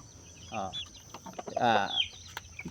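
A gamefowl rooster, a cross of Claret and Sweater breeds, gives two bursts of clucking calls close by against a quiet background.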